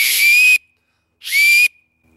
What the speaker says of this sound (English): That's how you make a two-handed acorn whistle.